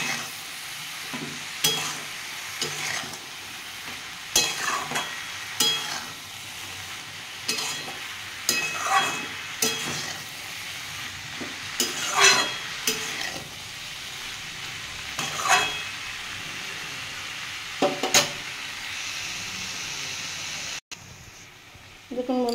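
Pui greens cooking in a pan with chili powder and turmeric, a constant soft sizzle broken by repeated scraping stirs of a spatula against the metal, close up, with a voice talking over parts of it.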